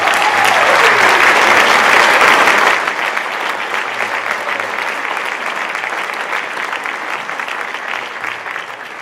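Applause from a school concert audience after an orchestra audition at a high school band and vocal concert, loud and dense at first, then dropping to a steadier, softer patter of clapping that continues to the end.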